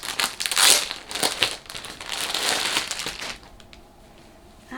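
Package being opened by hand, a baby-carrier wrap fabric gift: repeated crinkling and tearing of wrapping, loud and close for about three seconds, then quieter rustling.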